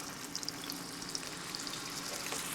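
Quiet, steady sizzle of scooped balls of mix dropped into hot oil, with faint crackles and small pops over a soft continuous hiss.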